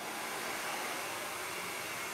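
A hair dryer on its lowest heat setting blows at ping pong balls, a steady, even whooshing airflow throughout, fairly quiet and with no talking.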